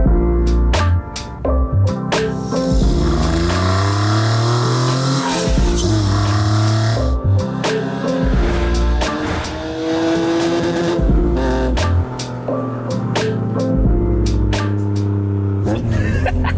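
A V6-engined Mazda MX-5 on newly fitted, firm suspension drives off with a loud, continuous engine note that climbs and falls through the gears, close up and steady throughout.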